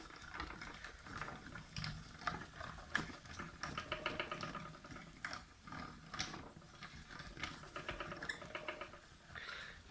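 Paper being fed through a small craft die-cutting machine, a faint steady ratcheting and grinding mechanical whir that continues throughout, with no talking.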